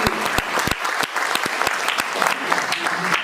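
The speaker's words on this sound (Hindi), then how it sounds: "पहले तो थंडर ब्लास्ट के लिए एक बार तालियां हो जाए" An audience at a sales coach meeting in Patna claps loudly for a product, with dense, steady applause and sharp individual claps standing out for the whole stretch.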